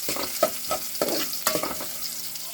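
Ginger sautéing in hot cooking oil sizzles softly while a utensil stirs it in a pan, with several scraping strokes at a steady rhythm over an even frying hiss.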